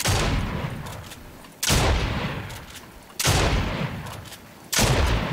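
Three loud, sharp shotgun blasts from the video game Fortnite, spaced about a second and a half apart, each with a heavy boom that decays slowly before the next shot.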